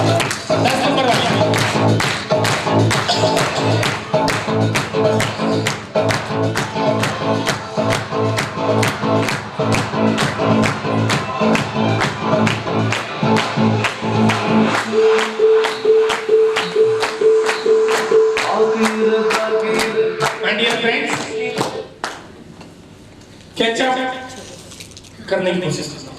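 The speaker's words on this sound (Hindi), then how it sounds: "ताली हो जाए 10 नंबर वाली।" An audience claps in a steady rhythmic unison beat, loud and sustained, then breaks into scattered applause at a leadership development program in India, with a voice speaking partway through.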